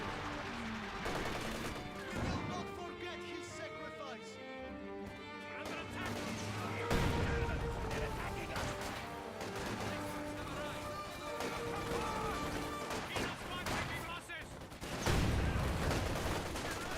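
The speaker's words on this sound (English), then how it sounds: "they immediately find more machine gun bursts" Machine gun bursts and gunfire clatter through a Company of Heroes 2 battle, with an MG-34 raking infantry squads. Dense, loud, continuous, overlapping shots and impacts run the whole stretch, with stronger bangs near the start and end.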